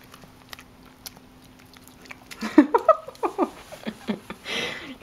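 A dog with teeth chews a piece of cheese up close, a quiet hum giving way to a run of wet, crunching bites and smacking jaw sounds, with a faint voice in the background.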